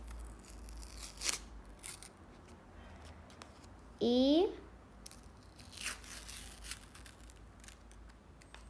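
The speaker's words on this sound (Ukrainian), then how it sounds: "Дуже класно відкрилося цей пакетик." A paper packet is ripped open in one quick, crisp tear lasting about half a second, with quiet room sound and brief speech around it.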